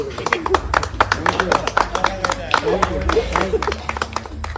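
A group applauding a person's bravery at a house compound near a college in Ramanagara, with dense, uneven hand claps carrying on under steady talk for the whole stretch.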